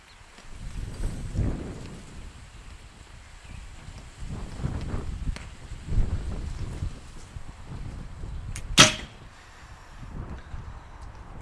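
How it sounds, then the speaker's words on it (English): Wind blows outdoors in gusty, rumbling surges against the microphone, rising and falling over several seconds, with a brief sharp sound near the end. "There's a fair bit of wind out today"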